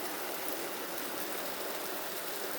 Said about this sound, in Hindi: अब मैं इसमें डाल रही हूँ थोड़ा सा सिरका